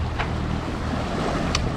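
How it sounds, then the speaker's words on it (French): A sailboat crossing the Mediterranean under light wind, running with engine assistance; steady wind and water rush fill the sound, with a faint low engine hum underneath and no voices. "On a mis un petit appui moteur là parce qu'on n'avançait pas assez."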